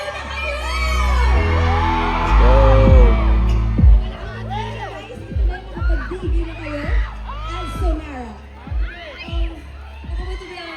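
A crowd cheers, whoops and shouts at a kick-off concert in Escolta, with loud rising and falling yells that swell, then break into repeated bursts.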